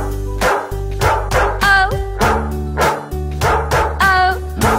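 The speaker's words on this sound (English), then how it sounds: "There was a farmer who had a dog, and Bingo was his name-o." Cartoon dog barks in a children's nursery rhyme song about a farmer's dog: a steady run of loud, rhythmic woofs and yips sits right on the beat of bouncy backing music.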